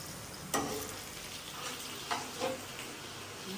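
Potatoes fry in ghee with a quiet, steady sizzle, broken by two or three brief sharp clatters from stirring.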